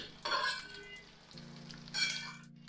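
Tomato tumbling into a pan of frying potatoes and onions with cumin and bay leaf, giving a steady close sizzle with two louder bursts of crackle and stirring, and a low hum running underneath.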